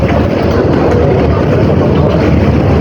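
A high-speed jet ferry pulling away from the terminal in Macau: a loud, steady, broadband engine and water roar that holds constant throughout, with no clear voices.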